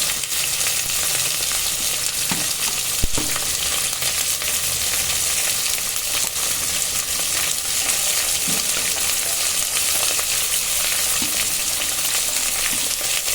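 Steady frying sizzle of sliced onions and green chillies for chicken biryani throughout, with occasional scraping clicks of stirring and one sharp knock near the start.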